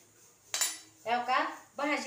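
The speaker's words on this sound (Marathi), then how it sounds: "आता ह्याला घोटून घेते मी. पेल्यानं घोटून घेत आहे." A glass mashes cooked chakwat leafy greens inside a small pressure cooker, giving a sharp knock followed by two longer, grinding scrapes of metal against the pot.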